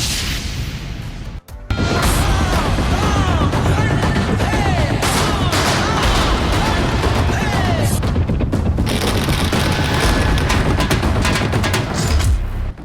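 Fireworks set off outside a house during a street celebration procession in Kanpur: dense, continuous crackling bursts and booms, loud and close, running almost nonstop after a brief pause.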